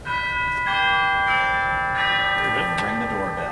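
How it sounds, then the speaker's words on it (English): Chimes on a 2013 Casavant pipe organ in First Presbyterian Church, Kirkwood, Missouri, ring out as sustained bell-like tones, several strikes overlapping and decaying in a reverberant sanctuary, with faint voices in the room. "You also have some chimes over there in the pedal"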